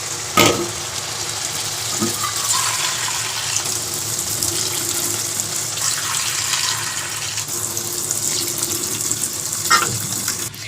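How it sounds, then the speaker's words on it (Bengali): Water poured into a hot pan of spiced oil for a pointed gourd curry, a steady rushing hiss with sizzling underneath that runs continuously and up close, with no talk. "এবার জল দিয়ে দেবো ফোটার জন্য।"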